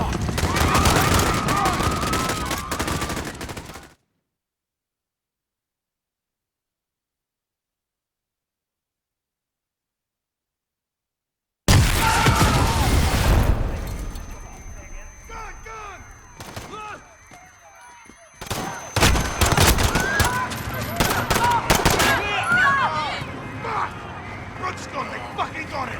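Dense gunfire rattles in the Call of Duty: Modern Warfare campaign during a street shootout, bursts of shots and explosions mixed with shouting voices, with a long silent gap early on.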